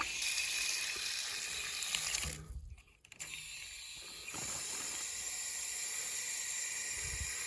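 Water sprays from a leaking garden hose connection with a steady hiss, running almost throughout, dipping briefly before resuming at a constant level.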